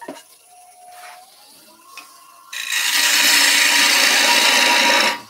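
A bowl gouge cuts a bowl shape on a wood lathe, starting as faint quiet hums and then a loud, steady broadband shaving hiss for about three seconds that stops abruptly, with no talk.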